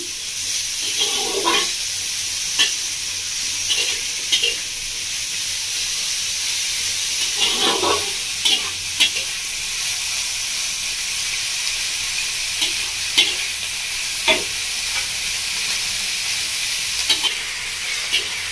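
Chopped pointed gourd and onion fry in a pan, a constant sizzling hiss punctuated by repeated spatula scrapes and taps at irregular intervals, close and moderately loud, with no one speaking.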